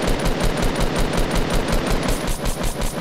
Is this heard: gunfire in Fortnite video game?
yes